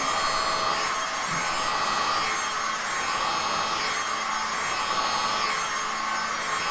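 A heat gun blows a steady, loud whooshing roar while warming poured resin art to bring out lacy cell effects, continuous and close with no talk.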